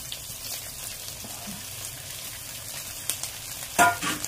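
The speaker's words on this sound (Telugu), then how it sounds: "ఉల్లిపాయలు కొంచెం బ్రౌన్ కలర్ వచ్చే వరకు వేగనిద్దామండి" Onions, green chilies, mint and coriander frying in a pan for chicken pulao, a faint, steady sizzle with a louder stir or clatter near the end.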